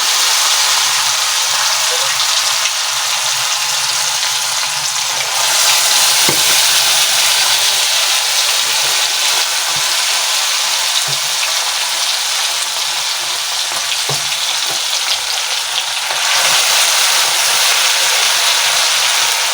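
Chicken pieces frying in hot oil for a chicken roast, giving a loud, continuous hiss and crackle that holds steady for about twenty seconds, with a few soft clicks and no talking.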